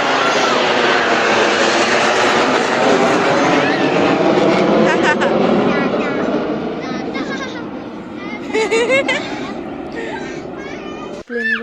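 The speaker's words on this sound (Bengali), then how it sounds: "এখন আমি এখানে প্লেনের আওয়াজ শুনে আসছিলাম" Airplanes pass overhead near a rail line by a house, a loud broad roar that swells and then fades away, with children's voices and chatter in the background.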